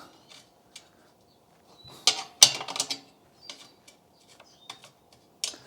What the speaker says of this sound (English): I'm using a 7/8 wrench here